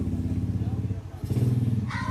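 Motorcycles rumble outside, a low engine drone pulsing close by under a person talking, rising in loudness partway through.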